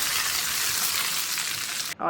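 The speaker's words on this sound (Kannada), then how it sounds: "ಒಗ್ಗರಣೆನ ಈ ತಂಬುಳಿಗೆ ಸೇರಿಸೋಣ" Hot oil tempering poured into a thambuli curry gives a loud, dense, continuous sizzle close up, cut off abruptly near the end.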